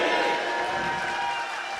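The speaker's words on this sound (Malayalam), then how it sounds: "എല്ലാവരും ഒന്ന് ക്ലാപ്പ് കൊടുക്കും, നിറഞ്ഞ കയ്യടി" A crowd claps steadily, a dense wash of applause from many hands sustained throughout, with some faint voices mixed in.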